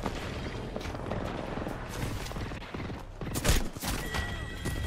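Rapid gunfire in an Apex Legends championship fight, dense bursts of shots with a sharp crack near the middle, over a busy game mix with no clear talk.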